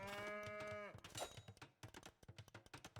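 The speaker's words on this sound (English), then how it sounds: "Another cow!" In Age of Empires II, a cow gives a long, clear moo that trails off, followed by quick clicking keyboard and mouse taps from the player.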